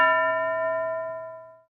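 A school bell is struck once and rings out clearly, its bright metallic tone slowly fading over under two seconds with nothing else around it.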